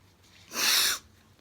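A woman sneezes once, a single sharp burst about half a second long, close and fairly loud, standing out against a quiet room with faint background hiss before and after.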